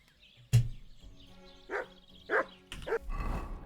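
A dog in the medieval video game Kingdom Come: Deliverance II barks about four times, a sharp first bark followed by spaced, moderately loud woofs over a quiet background.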